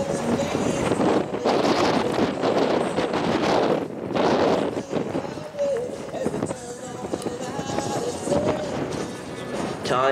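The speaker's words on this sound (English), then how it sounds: "with the wind blowing 30 mile an hour" Strong gusts of around 30 mph buffet the microphone at an outdoor rodeo during barrel racing, a loud rough roar that rises and falls continuously under an announcer talking over the PA.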